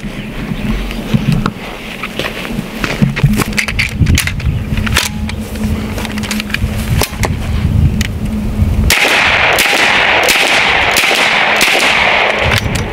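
Bin Tac S45 PCP air rifle firing from a high capacity magazine, a series of sharp cracks spaced irregularly over steady outdoor background noise, with no talking.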